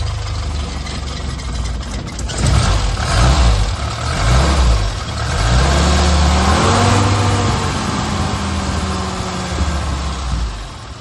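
A 1966 MG Midget engine idles just off choke, a close, steady low rumble with shifting tonal hums rising and falling slightly, running evenly with no talk over it.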